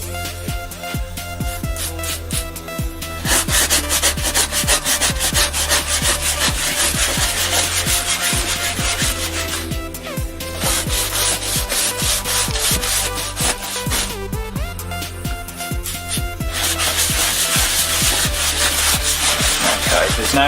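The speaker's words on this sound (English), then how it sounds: "If there's any spots you've missed, just come back over with your brush again." A brush scrubs white leather upholstery, a steady loud bristly rubbing that runs nearly continuously with brief pauses between passes, close and alone.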